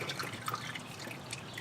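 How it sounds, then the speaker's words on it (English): Motor oil drips steadily into a drain pan beneath a loosened oil filter during an oil change, a quiet patter of small drops over a soft background hiss. "It's dripping, it's fine."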